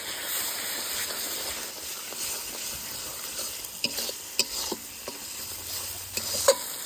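Ground spices, including dried chili paste, turmeric powder and Kashmiri chili powder, sizzle and fry in a pan under a steady close hiss, with scraping and clacking stirring strokes growing more frequent toward the end.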